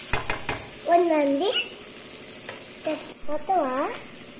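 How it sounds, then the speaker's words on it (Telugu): Green peas frying in a pan for a tomato and moringa curry give a steady close sizzle, with a few brief sliding tonal sounds rising over it. "పచ్చి బఠానీ వేస్తున్నాను అవి ఫ్రై అయిన తర్వాత"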